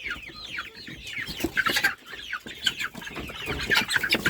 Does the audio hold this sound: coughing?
no